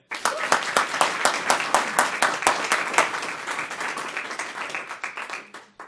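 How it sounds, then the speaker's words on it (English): Audience applause at a Toastmasters evaluation contest, welcoming back the contest host: a room of people clapping steadily, sharp distinct claps at first that gradually thin and soften toward the end. "please help me welcome back, big round of applause, our contest Toastmaster, Joanne Smith."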